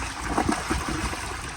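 A 2005 elongated Vitra toilet flushing, a loud close rush of water surging steadily through the bowl and siphon with a brief gurgle early on.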